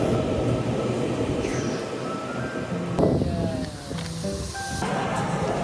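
Taiwan Railways local electric train at Longtian station, a loud steady rumbling rush of the moving train with whining tonal hums rising and shifting midway, close and continuous.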